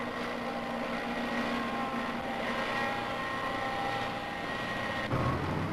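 An old mechanized farm tractor works in a field, its engine giving a steady, droning hum with a faint tonal whine, constant and mid-distance, with a slight shift in the final moments.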